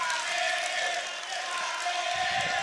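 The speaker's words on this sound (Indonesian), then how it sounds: "kita berikan tepuk tangan untuk Caketum nomor urut 3" Applause from an audience fills the hall for candidate number 3 at a HIPMI chairman candidates' debate, a steady, dense clapping that holds evenly for the whole stretch.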